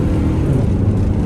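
Engine of a 1989 Plymouth Voyager SE Turbo minivan pulling steadily under acceleration, a continuous loud low drone with no breaks and no talking.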